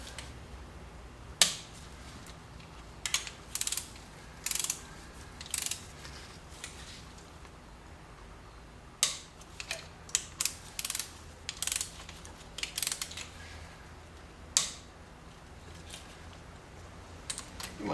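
A ratchet wrench torques cylinder head bolts, giving bursts of quick, close clicking strokes spread irregularly across a quiet background with no talking.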